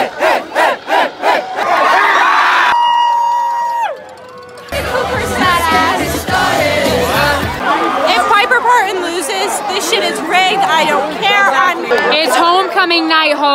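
A large crowd roars and cheers in a loud, sustained wave of yelling that rises and falls, with scattered shouts and babble.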